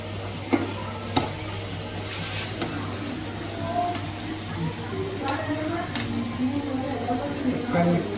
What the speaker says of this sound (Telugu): ఇరగకుండా నిదానంగా మంచిగా కలుపుకోవాలి